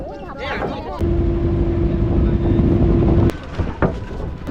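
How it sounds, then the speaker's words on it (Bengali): A river ferry boat crossing to Mayapur ghat carries passengers, its engine a steady loud drone with a sustained hum, and wind buffets the microphone throughout. "এখন এই নৌকা করে এই পার থেকে ওই পার যাব"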